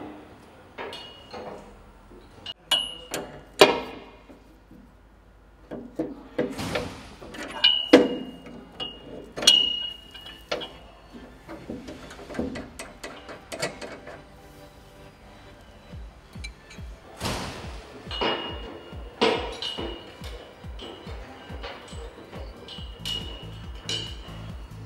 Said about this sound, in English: Use two 24mm wrenches to loosen the nuts.